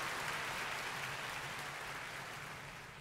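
Steady applause from a crowd in The Legend of Zelda: The Wind Waker HD fills the whole stretch, a dense wash of clapping that fades slightly toward the end.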